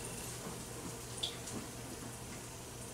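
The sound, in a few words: sizzle of panko-breaded leftover rice balls frying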